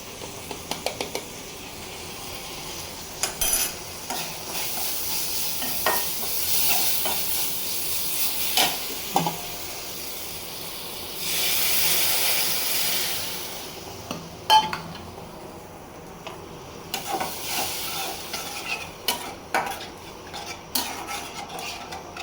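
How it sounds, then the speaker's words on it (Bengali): Fish frying in a pan with turmeric: a steady sizzle with intermittent clinks and scrapes of utensils against the pan, one louder hissing surge midway, no talking. "আমি যে মাছ ভাজায় দিলাম"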